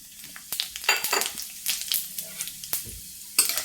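White cumin seeds, about a tablespoon, fry in hot oil as the base for an aloo bhorta mash, giving bright crackling sizzles and popping bursts that flare repeatedly against a quieter background.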